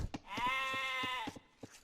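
A single clear sheep bleat from a sheep in the Age of Empires strategy game on an Arabia map, a wavering tone lasting about a second over soft clicks and faint background noise.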